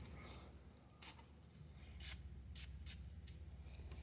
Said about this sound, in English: Some lubricant. You could use WD-40, grease